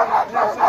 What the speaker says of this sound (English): a couple of their dogs are going to be on a team behind me here